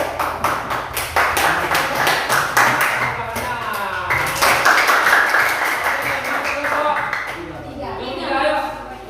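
Pupils in a classroom clap their hands in a series of sharp, rhythmic claps that run for several seconds, close and fairly loud, while voices talk over and after them.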